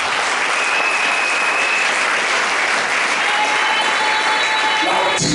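A church congregation applauds during a Sunday worship service, loud continuous clapping from many hands filling the room with no break.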